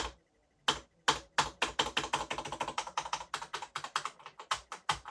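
Typing on an old keyboard connected to a shattered 2013 iMac, a few isolated clicks after silence, then a quick steady run of crisp close keystrokes with no talking.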